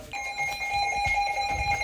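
An emergency alert system receiver sounds a steady, piercing electronic two-tone beep, close and loud, with soft handling noises underneath.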